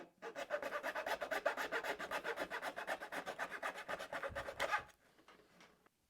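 Small wood pieces for model bridge pilings being cut by hand with a rapid, steady back-and-forth rasping saw stroke, close and fairly loud, stopping abruptly near the end.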